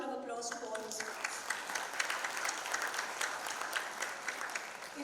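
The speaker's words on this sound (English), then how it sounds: "So a huge round of applause to all those films." An audience applauds for a sustained stretch, a dense patter of clapping that carries on steadily from start to finish, heard at a moderate distance.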